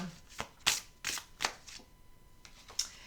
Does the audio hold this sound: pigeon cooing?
no